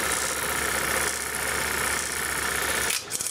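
A Super 8 film projector mechanism runs steadily, a loud whirring clatter with rapid rhythmic ticking, before cutting off abruptly near the end.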